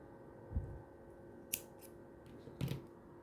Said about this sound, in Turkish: Şu ipi keseceğim şimdi.